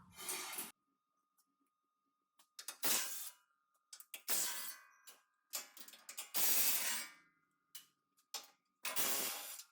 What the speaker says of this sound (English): Take these 4 bolts out, get the shield off.